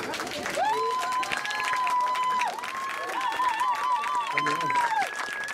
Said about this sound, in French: j'aimerais des grands applaudissements pour Génie et toute son équipe